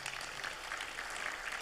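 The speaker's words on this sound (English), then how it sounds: "Round of applause for Jessica" An audience at an international publishers' congress claps for a speaker, a soft, even patter of applause heard from a distance that continues without pause.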